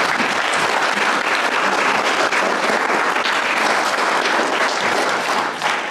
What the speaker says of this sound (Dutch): Alsjeblieft, applaus.